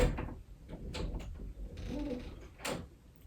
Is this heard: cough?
no